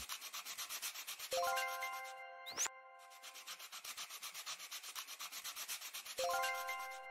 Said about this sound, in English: And then over to the sanding block. And we have a lot of sanding to do here.